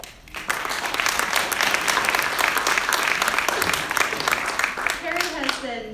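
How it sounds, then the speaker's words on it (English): A live audience claps steadily for Carrie at a Women In Procurement career event: dense, close applause lasting several seconds, with a voice starting to talk near the end. "can we give a round of applause for Carrie?"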